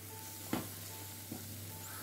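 Tuna fish cutlets made from canned tuna fry in hot oil in a pan, giving a steady close sizzle with a couple of soft knocks as pieces go in or shift.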